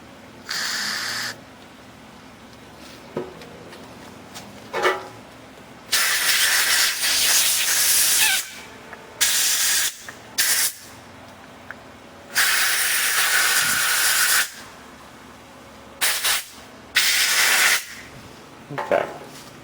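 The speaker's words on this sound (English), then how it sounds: "You can blow your ports out with it and then you just follow it with compressed air" Carburetor cleaner and compressed air blasted through the ports of a Scrambler 90 carburetor: several sharp, loud hissing bursts of varying length, close by, separated by near-silence and no talk.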